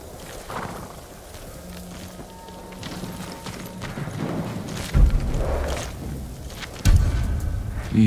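Horse hooves from the video game Ghost of Tsushima clop at a walking pace over ground amid a low ambient wash, with a couple of heavier thuds near the end.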